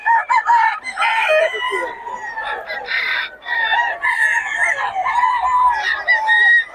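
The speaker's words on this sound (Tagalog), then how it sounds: "solid ang mga manok ng Boss Tony ah" Several roosters crow in overlapping calls, loud and close, with clucking in between and no pauses in the flock noise.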